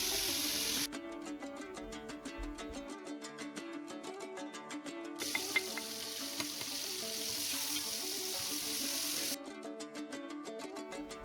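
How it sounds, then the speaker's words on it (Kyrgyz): Chopped ingredients fry in oil in a cauldron, a steady close sizzle running the whole time, with brief surges where it grows louder and brighter, alongside faint clinks. "Эми казанга майды куюп, бардыгын кууруп баштайбыз."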